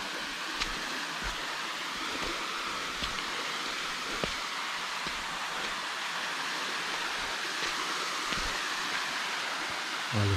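Small waterfall on a trail circuit at Ibitipoca, a steady broadband rush of falling water that stays even and moderately loud throughout, with no voices.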